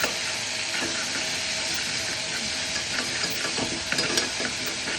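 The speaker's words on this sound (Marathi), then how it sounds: "थोडीशी आलं लसूण ही पेस्ट टाकायची एक चमचा टाकायचं आपल्या आवडीनुसार टाकायचं चांगली ती परतून घ्यायची" Ginger garlic paste sautéing in a pan while being stirred for misal pav, a dense continuous hiss of frying with faint scraping of the spoon, close and steady throughout.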